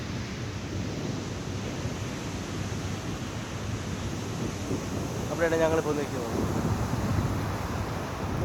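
Strong wind buffeting the microphone over crashing sea waves on the coast of Kanyakumari district, a constant heavy roar; a person speaks briefly partway through.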